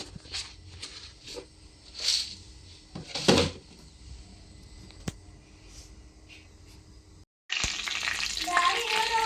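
Curry leaves and green chillies hit hot tempering oil for poha upma. A few clattering kitchen knocks come first, then a short pause, then a steady loud sizzle that holds to the end.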